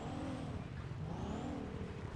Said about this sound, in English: I believe I hear a motorcycle above us on the freeway.